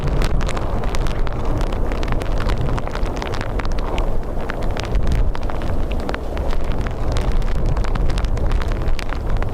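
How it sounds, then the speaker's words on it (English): Storm Bert gales at Dublin Airport batter the microphone with a constant loud rumbling roar, unbroken and without any voices. "As you can hear, it's rather windy."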